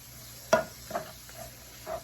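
Already-cooked hamburger meat stirred in a pan, a few distinct scraping pushes of a utensil spaced about half a second apart with a faint sizzle beneath, close by.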